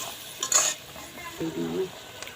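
Fried lentil dumplings are stirred into cooking dal, giving a brief spoon scrape and clink against the pot over a faint sizzle, with no talking.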